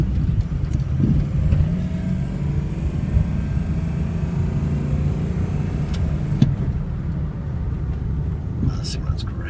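A 1-ton Ford truck's engine running steadily: a loud, constant low rumble close by throughout, with faint clicks and light rattles on top and some speech mixed in.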